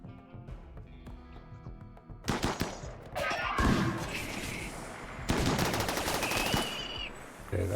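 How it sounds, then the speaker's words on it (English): Heavy game gunfire erupts in dense automatic bursts, loud and continuous after a quieter start, with sharp cracks layered over a rumbling wash. "Okay, that is a lot of gunfire."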